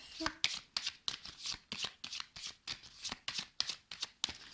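Tarot cards being shuffled for a reading, a steady run of about a dozen crisp riffling bursts in regular rhythm, close and clear.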